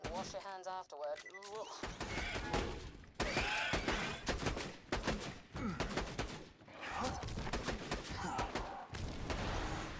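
Rapid gunfire from the video game Borderlands 2, bursts of shots and impacts filling the scene, loud and dense with brief pauses between volleys and a synthetic chirp near the start.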